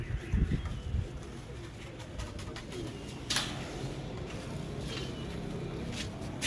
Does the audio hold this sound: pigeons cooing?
yes